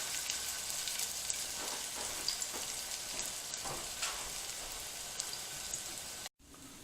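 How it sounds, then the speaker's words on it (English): A shiitake-seitan vegan burger patty fries in a pan with a continuous close crackling sizzle and scattered pops, steady throughout before a brief sudden drop near the end. "Let's just fry that up on both sides and see how great it is."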